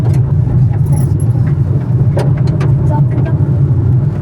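A car drives up a dusty road toward a hilltop temple, with a loud steady engine and road rumble throughout, interior rattles and a few light clinks on top.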